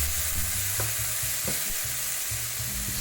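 Onion and pork being stir-fried together for Thai pad kra pao with basil, a steady sizzle under repeated scraping strokes of a utensil against the pan, close and continuous with no talking.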